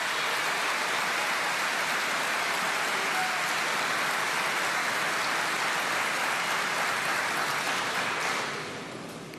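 Sustained, dense applause from a large crowd in a parliamentary chamber during a presidential address at the opening of ordinary sessions, a steady roar that fades slightly at the end.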